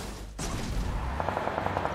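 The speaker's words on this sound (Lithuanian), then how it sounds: "Ui, po kairę šaudo." A distant burst of rapid gunfire rattles off in a quick series of shots after a sudden thump, faint against steady outdoor noise.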